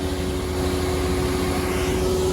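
A large farm machine sucking material into its hopper like a giant vacuum cleaner, a loud steady droning roar with a constant whine, continuous and close throughout with no talking.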